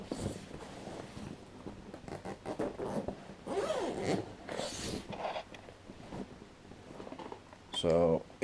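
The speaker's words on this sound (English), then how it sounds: "Unzip it." A rucksack zipper holding drone gear is pulled open with a brief, loud, rasping zip near the end, while a person talks through most of the clip before it.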